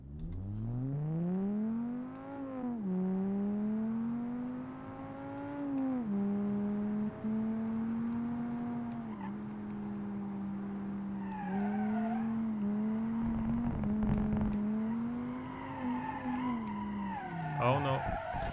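A naturally aspirated straight-five car with a 5-speed manual gearbox in the driving simulator BeamNG drones steadily under load, its pitch rising and dipping through gear changes, with tire squeal and a voice talking over it.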